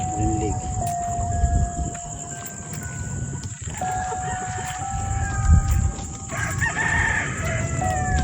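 Gamefowl stags crow at a game farm at night, with repeated close crows over a constant chorus of insects and crickets. A few faint voices can be heard in the background.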